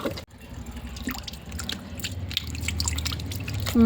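Water drips and trickles while soil is rinsed off freshly picked garden produce, with soft splashing and dribbling close by throughout and a brief clatter near the end.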